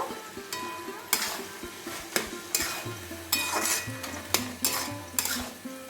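A spoon stirs ghee and garam masala into a banana flower dish, sharp metallic scrapes and clinks against the pan in a regular rhythm about once a second over a soft sizzle.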